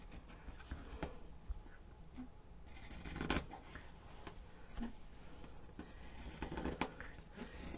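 Scissors cutting through a double layer of fabric: quiet, close snipping and rustling, with intermittent crisp cuts over a soft background hiss, no talk.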